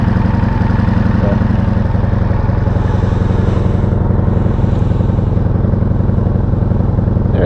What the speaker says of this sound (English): It's a 1985 Honda Sabre 1100 V65.